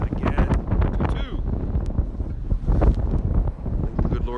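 A gust of wind buffets an outdoor microphone at a high-school baseball game, loud, continuous rushing and rumbling that fills the whole stretch, with a commentator's voice mixed in.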